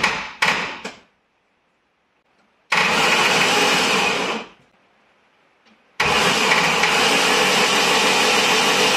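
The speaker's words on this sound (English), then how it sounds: "all you'll get then is the starter motor spinning" The starter motor of a turbocharged 2.3 UAZ 452 van whirs in loud bursts with the solenoid bridged, spinning without engaging the flywheel: a short stuttering burst, a pause, a spin, a gap, then another sustained spin, close up.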